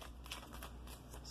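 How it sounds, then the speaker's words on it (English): Tarot cards being quickly shuffled, a steady papery riffle and crackle running the whole time at low level, with no voice over it. "I'm just going to give them a quick shuffle and then cut them"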